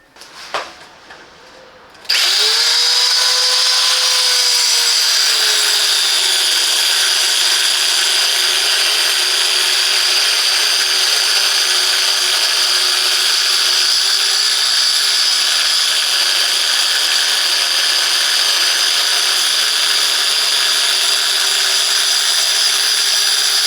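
A HYCHIKA 500W electric mini circular saw cutting wood: after a brief starting clatter it settles into a loud, steady high whine that runs nonstop with a slight pitch dip early on, heard alone and close.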